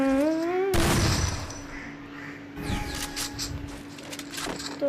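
Gunfire in a shooter video game: a sudden loud burst of shots followed by scattered sharper reports and a sustained electronic tone, with a brief rising game sound at the start.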